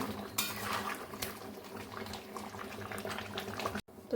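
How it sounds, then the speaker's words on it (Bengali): Rice boiling in hot water in a pot with biryani masala, a steady bubbling rumble with clinks of utensils against cookware, close and fairly quiet, briefly cutting out near the end. "এদিকে ভাতটা বসিয়ে দিয়েছি, জলটা গরম হয়ে গেছে, যে চালগুলো ছেড়ে দিলাম"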